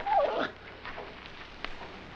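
A dog whimpers briefly in a thin, high whine at the start, followed by fainter yips and quiet rustling in an outdoor Western scene; short and moderately quiet.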